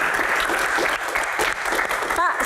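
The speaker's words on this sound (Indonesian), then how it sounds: "tepuk tangan dong" Dense applause from an audience at a Q&A session, brisk and steady for a couple of seconds, with a voice speaking over it near the end.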